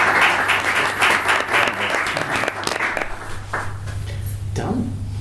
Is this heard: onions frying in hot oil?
no